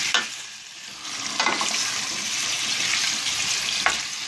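Persian rice with potatoes is stirred in oil in a pot, giving a steady sizzle with a few sharp scraping strokes of the spoon, close and continuous with no voices.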